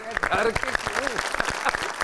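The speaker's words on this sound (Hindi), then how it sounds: "बड़ी ताली" Studio audience applause on a comedy show, brisk clapping under a voice talking over it for a couple of seconds.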